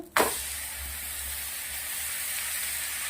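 A stuffed okra paratha spread with butter roasts on a hot griddle with a steady, fairly loud sizzle and hiss. The sizzle flares at the start and then holds evenly throughout, with no talking.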